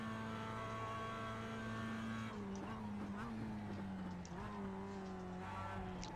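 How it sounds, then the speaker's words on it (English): Mazda Cup race car in the iRacing sim at Road America braking hard into a corner, a steady engine drone shifting pitch as the tires slide and scrub briefly, continuous and close throughout. "Sliding a little bit under braking there."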